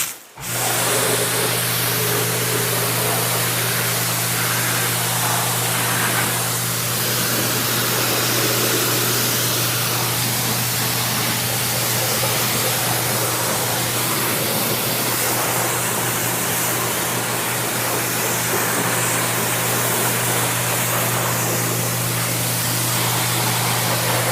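Water spray rinsing the engine bay of a BMW 1M, a steady loud hiss of the nozzle running continuously throughout, with a constant low hum underneath and no talking.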